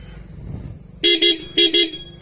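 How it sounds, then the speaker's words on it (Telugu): Horn of a 2024 Jawa Classic 350 motorcycle sounds in two paired bursts, two short loud beeps, a pause, then two more, close and clear over a quiet idle background. "ఇండికేటర్స్ అండ్ హార్న్ ఒకసారి చెక్ చేద్దాం"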